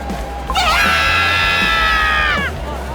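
A character screams in the Cookie Run Kingdom video game, one sustained shrill cry of about two seconds that wavers at a high pitch and rises over a low background hum.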